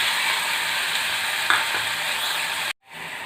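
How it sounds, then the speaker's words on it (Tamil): Tomatoes with green chillies, garlic and ginger sautéing in a pan for a street-style masala poori curry, a steady close sizzle with a faint stir scrape, cutting off briefly near the end. "நல்லா வதக்கி விட்டுக்கலாம்"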